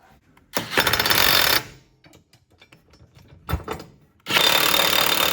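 An impact-style power tool tightens a running-board bracket bolt underneath a 1981-1991 Chevrolet Suburban, with two loud, close rattling bursts about a second each and a brief clunk between them.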